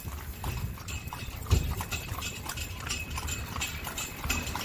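Horse hooves clip-clop in a steady rhythm as a horse-drawn carriage rolls through Hammamet, Tunisia, close and moderately loud with one sharper knock partway through.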